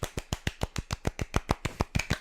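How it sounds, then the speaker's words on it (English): A slow golf clap for a guest in a room with only a few people: about fourteen soft, evenly spaced hand claps, close and alone, with no talking. "golf clap for our friend, our bro, Mr. Alex Brosnan."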